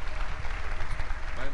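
Church congregation claps together in a dense, continuous burst of applause, loud and close, with voices mixed into the crowd sound.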